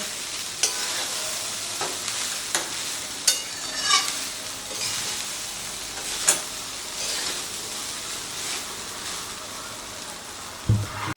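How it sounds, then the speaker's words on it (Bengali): Cooked rice is stirred through spices in a pan for onion rice, a continuous soft scraping and rustling with sharp spatula knocks against the metal, close and alone. "মশলার সাথে রাইসটাকে খুব ভালো করে মিশিয়ে দিতে হবে।"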